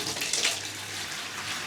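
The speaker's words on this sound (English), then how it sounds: "Turning it to empty, and this should be a good flow of water coming out of here" Water rushes steadily out of a Bosch washing machine as it empties, a continuous close hissing flow with no voices.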